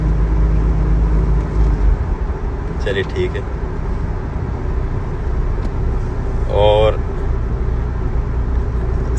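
A car moving at speed gives a steady, loud low road and engine rumble throughout, with people talking over it.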